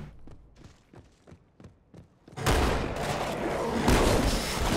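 Shotgun blasts in the video game Halo 2: a string of separate thumping impacts is followed by a loud, continuous wall of gunfire and explosive noise.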